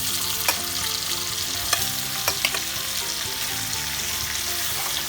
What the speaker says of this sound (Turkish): Enginarlarımızı da atıyoruz.